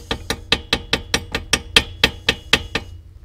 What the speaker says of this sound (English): And then just hammer it in.